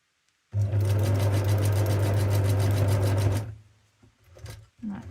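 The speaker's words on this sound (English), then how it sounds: "So I'm just going to run another stitch" Sewing machine running a stitch along a fabric snippet roll, a single loud, even, close whirring burst of about three seconds that stops abruptly, followed by light handling noises.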